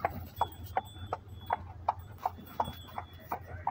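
A horse pulling a tourist carriage clops along in an even, walking rhythm, each hoof strike distinct over a low rumble of wheels, moderately close and faint, with no voices.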